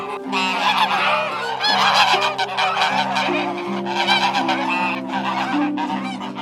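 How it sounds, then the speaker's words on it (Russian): A flock of domestic geese honks continuously, many overlapping nasal calls close by, loud and busy throughout. "чинно шагают, переваливаясь сбоку на бок, возвращаясь домой, домашние гуси"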